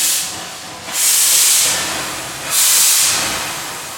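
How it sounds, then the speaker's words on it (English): Stanley Steamer steam car clearing its cylinders: two loud, sustained bursts of hissing steam swell up in turn over a steady background hiss, with no talking. "First thing you do is you clear the cylinders."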